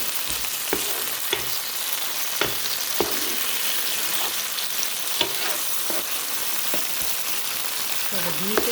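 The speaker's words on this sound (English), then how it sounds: "So the beef is cooking well. The bittermelon is cooking well." Beef and bitter melon fry in a pan with black bean sauce, giving a steady, bright sizzle broken by the scrape and knock of a utensil turning the food every second or so.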